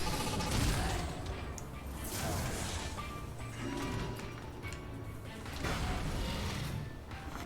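The Colossal Barrage attack in Battle Chasers: Nightwar crashes and booms in a dense, repeated barrage of heavy impacts, with a voice calling out over the clatter.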